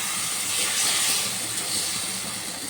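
Spiced pabda fish hit hot butter in a wok, giving a steady, fairly quiet sizzling hiss that holds throughout with no talking.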